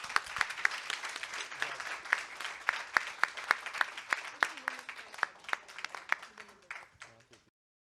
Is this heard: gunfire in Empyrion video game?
no